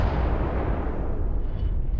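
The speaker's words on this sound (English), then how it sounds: "Was that just a spaceship taking off, maybe?" A spaceship lifts off in the video game Starfield, a heavy, continuous low rumbling boom that stays loud and dense for about two seconds before easing slightly.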